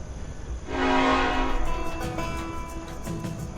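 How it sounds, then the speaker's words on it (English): A train sounds one long, loud whistle that rings out and fades, followed by the rumble and clatter of the cars as it pulls away heading west. "the train whistled twice and started heading west"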